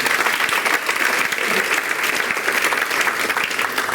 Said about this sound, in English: I think another round of applause for him